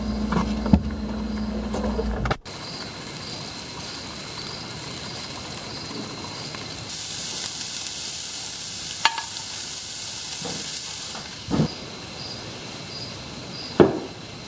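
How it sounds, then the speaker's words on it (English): Steaks sizzling on a hot grill or pan as they go on to cook, a steady frying hiss with occasional sharp pops and clinks near the end, no voices. "I just put the steaks on."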